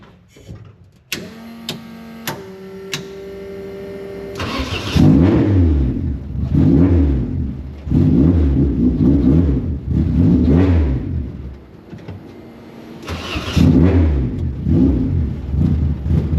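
A 2020 Dodge Charger Hellcat race car with an X-pipe exhaust roars loud and close, a few short throttle blips followed by repeated heavy revs that rise and fall, with no talk.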